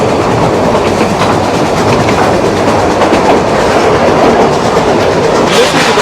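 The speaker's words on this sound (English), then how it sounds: "These steam rails, the rhythm is just so fantastic, isn't it?" The Puffing Billy heritage steam train rattles loudly along the rails from on board, a continuous clickety-clack of wheels with no talk over it.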